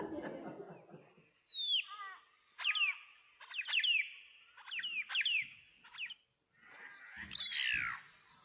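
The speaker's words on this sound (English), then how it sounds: "That sounds much more like the black-faced cuckoo-shrike." A recording of a black-faced cuckoo-shrike calling plays, a series of rolling, trilled churring notes repeated in short phrases at moderate distance, with a faint voice at the very start.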